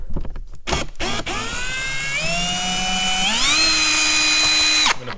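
Power drill fitted with a T27 Torx bit backing out a screw from an engine guard on a 2022 Harley-Davidson Road Glide, a close, loud whine stepping up in pitch for several seconds before stopping sharply.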